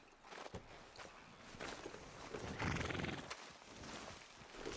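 A horse walks in the Red Dead Redemption II video game, hooves clip-clopping in an uneven rhythm against a soft outdoor backdrop, with a brief louder stretch midway and no talk.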